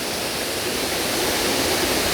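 Water cascades down the waterfall in the Fairy Glen at Rosemarkie after heavy rainfall, a steady, dense, loud rushing roar that holds constant without pause.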